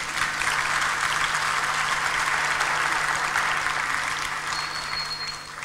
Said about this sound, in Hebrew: טוב, אין ברירה, תמחאו כפיים.